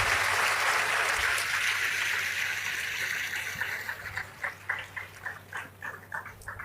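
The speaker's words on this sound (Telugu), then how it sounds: "మీరు మీ వరకు కొట్టండి చప్పట్లో." A church congregation at a morning service claps together, a dense wash of applause that thins into a few scattered, fading claps near the end.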